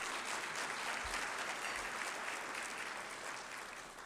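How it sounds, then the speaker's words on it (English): Steady applause from a luncheon audience honoring the PSP leadership, a dense wash of clapping hands that holds at an even level and tapers slightly at the end. "So we can give a round of applause for the PSP leadership"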